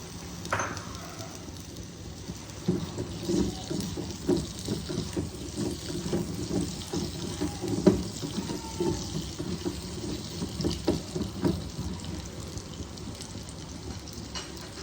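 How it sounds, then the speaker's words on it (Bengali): Potatoes with a little turmeric fry in hot oil for a Bengali katla fish curry, giving a steady close sizzle with crackling bursts and occasional stirring clatter throughout. "আলুগুলোকে লাল লাল করে ভাজবো।"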